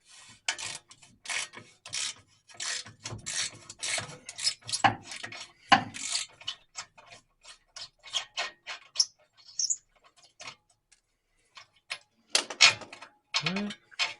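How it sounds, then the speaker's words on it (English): A hand ratchet clicks in quick bursts while loosening bolts on a Chevrolet S10's catalytic converter, close and fairly loud, with pauses, scraping and metal handling between runs of clicks. "Okay, ratchet it is."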